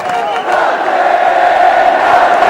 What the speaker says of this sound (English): The impromptu rendering of Sachin as a final send-off.